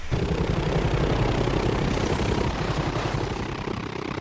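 A helicopter from the film Zero Dark Thirty, a steady low rotor and engine drone that stays loud and constant throughout, easing slightly toward the end.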